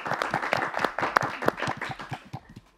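An audience breaks into applause with sharp, irregular claps, loud and close at first, then thinning out and fading toward the end.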